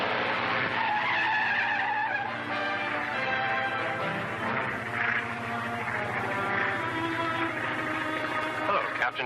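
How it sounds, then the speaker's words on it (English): A car arrives on a highway with tires skidding and squealing, a loud sustained screech that rises, holds and fades over several seconds. "Here comes a car."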